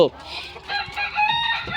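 Desi chickens of a large pure breed cluck and call close by, with a bright, squawking, crow-like cry rising over a farmyard murmur.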